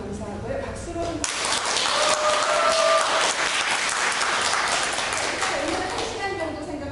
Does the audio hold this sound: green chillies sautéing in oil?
no